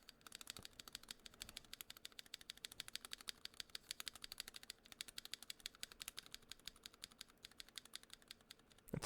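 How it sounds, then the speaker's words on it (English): Steady, fast typing on a Mercury65 mechanical keyboard, with dense clacking keystrokes continuing throughout at a close, moderate level and no talking. "now let's listen to this keyboard"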